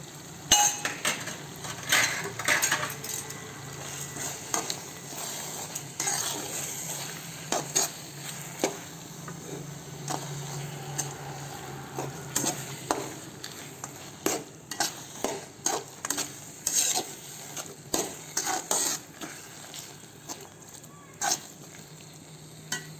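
Gongura leaves and seasoning being stirred and mixed in a pan for gongura chutney, with steady scraping strokes and light sizzling, repeated spoon knocks against the pan building toward the end, close and moderately loud.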